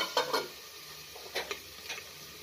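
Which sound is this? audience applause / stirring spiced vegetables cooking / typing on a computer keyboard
stirring spiced vegetables cooking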